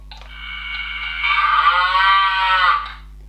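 A single cow lets out one long, loud moo lasting about three seconds, swelling midway and then fading, close and clear against a quiet hum.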